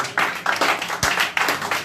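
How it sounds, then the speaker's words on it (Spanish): A church congregation claps for God during a service, a few loose bursts of hand claps close by and fairly loud, uneven in rhythm, with no talking over them. "Denle un aplauso al Rey del cielo"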